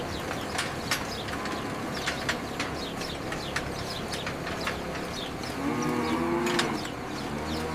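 Holstein dairy cows mooing on an American farm, a low drawn-out moo rising near the end over a busy barn background of clicks and bird chatter.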